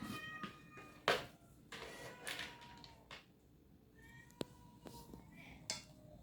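A cat meows several times in a kitchen while pet food is being prepared, the short cries close by and mixed with light clatter of dishes and people talking.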